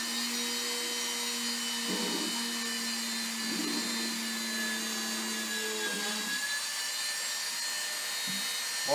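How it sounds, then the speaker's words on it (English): A Dremel rotary tool drills holes in a tarantula enclosure, giving a steady high whine with a low hum that dips briefly in several spots as the bit catches, close up and with no talking. "if you have threads sticking off of your Dremel bit, to clean them off before doing the next hole"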